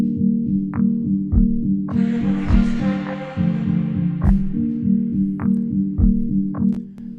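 Layered electronic percussion loop built from XLN Audio Life samples and driven by an Ableton arpeggiator, with steady repeating tonal hits, sharp transient clicks and a brief noisy swell, playing loud and continuous with no talking.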